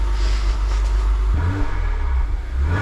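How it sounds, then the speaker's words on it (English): Acura TLX Type S with a turbocharged engine and a PRL high-flow air filter, revved close by: a steady loud engine drone shifts into a deeper, throatier rumble partway through, with no talking. "You can hear the turbo."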